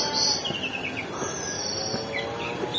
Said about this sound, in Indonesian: Ada burung berkicau ya.